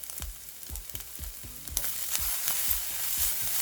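Kimchi paella being stir-fried with melted butter, salt and pepper in a pan, a steady sizzle broken by repeated scraping strokes of a spatula in an even rhythm, close and alone with no talk.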